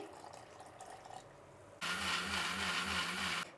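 After a stretch of soft kitchen background, a mixer grinder processing grated coconut and poha with water switches on abruptly, giving a loud, steady whirring motor drone that runs for almost two seconds, then stops.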